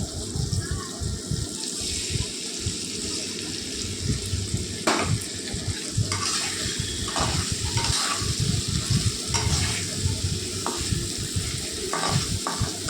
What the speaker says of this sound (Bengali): তারপর ভালো করে সবজিটার সঙ্গে মিক্স করে নেব।